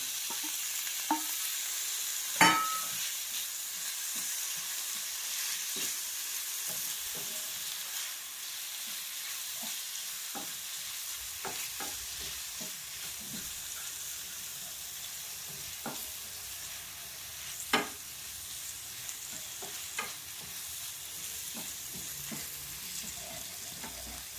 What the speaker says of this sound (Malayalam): അതിലേക്ക് നമ്മൾ തക്കാളി അരിഞ്ഞത് ചേർത്ത് കൊടുക്കുന്നു